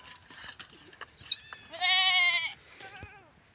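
A goat gives one clear, loud, wavering bleat close by outdoors, lasting under a second amid faint background noise, with a shorter, softer bleat following after a brief pause.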